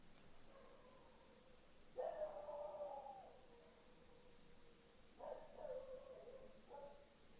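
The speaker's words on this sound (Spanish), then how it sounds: "Otro lamento y los perros empezaron a ladrar." Dogs bark at night some distance away, two clusters of faint barking and yelps separated by a few seconds of quiet outdoor hiss.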